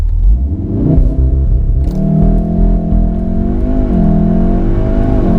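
A VW Golf R accelerating hard from a launch-control start, its engine note climbing steadily in a loud, close, continuous roar with a brief dip and renewed rise as it shifts up.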